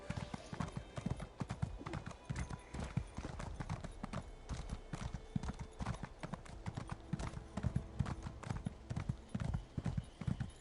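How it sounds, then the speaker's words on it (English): Horse hooves clip-clop steadily and close in Elder Scrolls Online, a brisk continuous trot over ground with a faint occasional whinny and some game ambience underneath. "Actually, I could just whistle my horse."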